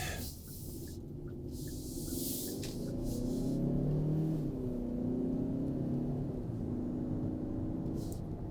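Hyundai Santa Fe Calligraphy with a 2.5 liter turbo engine drives along, a steady road and engine rumble swelling as it accelerates, with wind and tyre hiss layered over it from inside the cabin.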